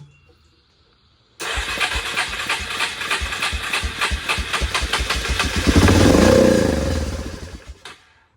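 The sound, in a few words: ATV engine starting and running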